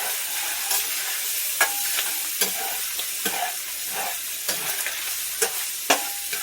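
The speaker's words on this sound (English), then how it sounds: "I am going to go ahead and just start ladling this in." Sloppy Joe sauce ladled into a hot pan and stirred, with steady sizzling and frying beneath repeated sharp scrapes and clinks of the utensil against the pan.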